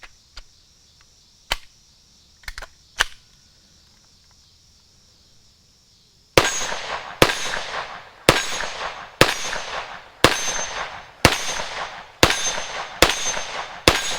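Bullets from a CZ Scorpion Evo striking a steel target: a few sparse sharp clangs, then a rapid regular string of loud ringing metallic hits, each decaying quickly before the next.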